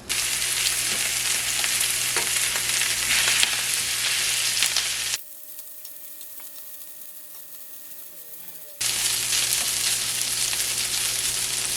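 Fried rice with leftover meat is stir-fried in a pan, making a loud, continuous sizzle broken by a quieter lull of a few seconds midway before the frying resumes.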